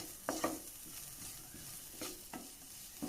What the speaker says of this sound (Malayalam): ഉപ്പും ചേർത്ത് നല്ല പോലെ ഇളക്കി കൊടുക്കാം